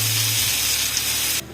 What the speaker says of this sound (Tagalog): Igigisa lang natin ito.